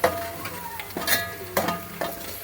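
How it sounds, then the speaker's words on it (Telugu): Food is stirred in a pan after a spoonful of salt goes in, with a few scraping strokes of a spoon over a faint sizzle, close and without talk. "మంచిగా మిక్స్ చేస్తుంది."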